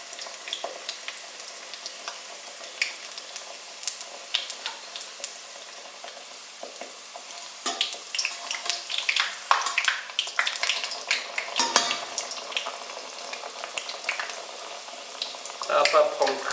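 Sopaipillas, Chilean fried dough, frying in a pan of hot oil give a steady close sizzle with bursts of crackling and bubbling that grow louder toward the end, with no talk.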